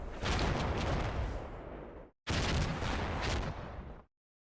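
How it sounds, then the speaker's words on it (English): Mortar rounds land in the video game Combat Mission: Black Sea, giving two long, loud rumbling blasts of explosive impact one after the other, each fading out, with a short clean gap between them. "there's our mortar starting to fall"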